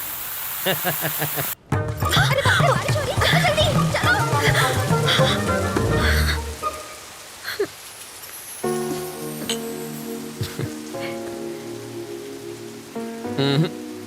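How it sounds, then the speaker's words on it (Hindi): Steady rain falls with frogs croaking loudly through it, a dense wash of patter and croaks that thins out partway, leaving scattered calls and drips. "बरसात शुरू।"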